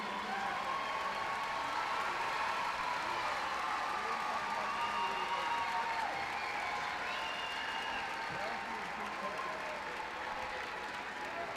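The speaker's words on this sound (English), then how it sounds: "Let's give them an applause" Sustained applause from a large audience fills a commencement hall at a 2017 high school graduation, steady dense clapping with faint cheering and crowd murmur running throughout.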